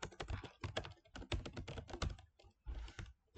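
Keystrokes clatter on a computer keyboard while a certificate is set up in Microsoft Word 2016, with close, quick bursts of taps separated by short pauses and no talking.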